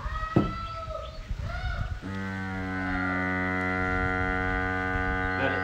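A Nemo Grabo 14.8V battery vacuum lifter switches on partway through after some handling noises, its suction pump settling into a steady, close electric hum that runs to the end.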